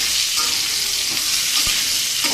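Ridge gourd pieces frying in hot oil, a loud, dense crackling sizzle throughout with a single faint utensil tap.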